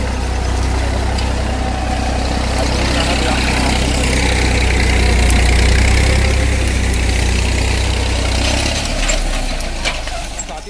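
A Massey tractor engine rumbles loudly and steadily while working a cultivator through a sugarcane field, swelling slightly midway and easing toward the end, with faint voices mixed underneath.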